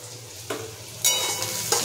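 Onions frying with salt in a pan: a continuous close sizzle broken by three short spatula scrapes or stirs at irregular intervals.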